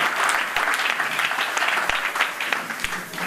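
A church congregation bursts into sustained, loud applause for the Lord, many hands clapping together in a steady roar with a few distinct claps standing out, lightly mixed with voices.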